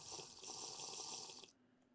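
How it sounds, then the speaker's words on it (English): Drinking lake water in modded Minecraft RLCraft, a bright splashing, gurgling water sound that runs steadily for about a second and a half, then cuts off abruptly, leaving quiet. "We're going to go drink the lake water"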